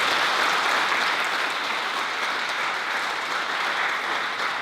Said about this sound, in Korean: 우리 안시모님 위해서 다시 한번 감사의 박수.